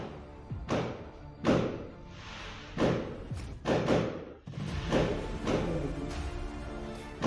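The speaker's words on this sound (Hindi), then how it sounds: "पटाखों आवाज़ आ रहा है" Firecrackers go off outside as a string of muffled booming bangs, each with a short rumbling tail, spaced irregularly over several seconds.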